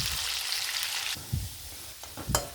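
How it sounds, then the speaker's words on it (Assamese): Potatoes with a little salt frying in a pan until lightly browned, a loud bright sizzle at first, then quieter crackling broken by a few soft stirring knocks. "এতিয়া মই আলুখিনি অলপ ৰঙা পৰাকৈ ফ্ৰাই কৰি ল'ম"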